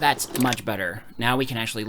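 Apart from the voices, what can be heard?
None of the usual background noises is heard.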